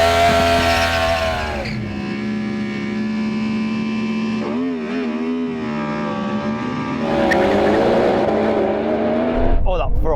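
Drag race between a Yamaha R1 motorcycle, a Porsche Taycan Turbo GT and a Ferrari SF90, with loud engine and motor whine sweeping up through the gears over a steady roar, people talking over it.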